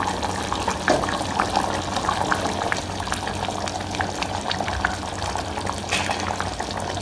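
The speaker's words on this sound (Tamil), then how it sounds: "இப்போ நல்லா கொதி வந்துடுச்சு" Okra tamarind gravy (vendaikkai puli kuzhambu) at a rolling boil in a pan, a steady bubbling and gurgling with frequent small pops, close and continuous throughout.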